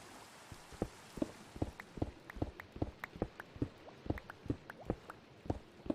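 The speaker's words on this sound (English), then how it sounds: "Oh joy, it's raining." Rain falling in the Minecraft 1.18 video game, heard as quiet, irregular patter with distinct drop-like taps spaced through the whole stretch, faint and alone without talk.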